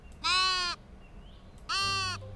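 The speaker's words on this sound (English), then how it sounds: "That actually scared me because I have headphones on and I forgot they baa like that." Sheep in the video game Tiny Glade bleat twice, two clear, close, nasal baas separated by a short pause.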